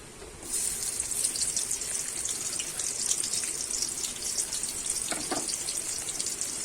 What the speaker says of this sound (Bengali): তেলটা আমার গরম হয়ে গেছে, এবার পেঁয়াজগুলো আমি দিয়ে দেব।